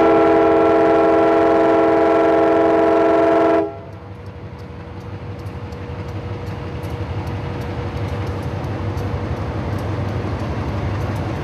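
A freight train on a Florida rail line sounds a loud, sustained multi-chime horn that cuts off abruptly. Steady rumbling and clattering of the passing cars follows, close and continuous.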